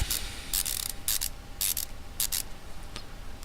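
Bolts are worked loose with a ratchet in Car Mechanic Simulator 2015: short bursts of rapid clicking pawl, about six runs in quick succession, close and fairly loud with no talk.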